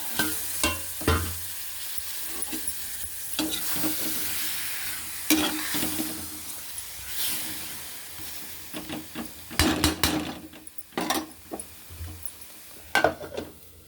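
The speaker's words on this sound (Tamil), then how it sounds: "கொஞ்சம் நேரம் ஒருக்க அப்படியே பிரட்டி விடணும்." Raw banana slices for a fry are turned in a pan over low heat, a spatula scraping and tossing in uneven bursts above a steady frying sizzle, close up, with a cluster of sharper scrapes near the end.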